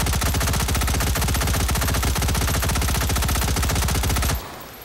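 Sustained rapid automatic M16 fire in the VR shooting game Hot Dogs, Horseshoes & Hand Grenades, a loud, close, evenly spaced burst of shots lasting several seconds before cutting off abruptly into a quiet tail.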